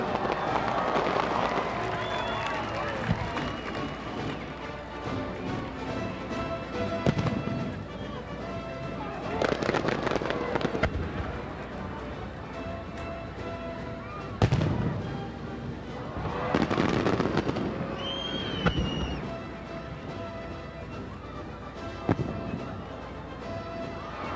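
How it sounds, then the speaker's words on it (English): July 4th fireworks thump and crackle in scattered bursts over a busy crowd, with people talking throughout and occasional whistles. "they were confident that the fireworks would begin"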